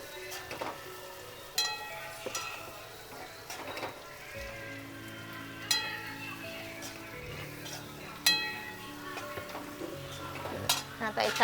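Chopped ivy gourd (gilodya) stirred into fried masala with salt in a pan, with a spatula scraping and clinking against the metal in irregular strokes over a soft, steady frying hiss.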